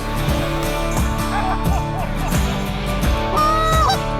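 A Canada goose honks repeatedly amid a busy, loud outdoor mix of other fowl calls and background noise during a waterfowl hunt, the honks coming in quick irregular bursts.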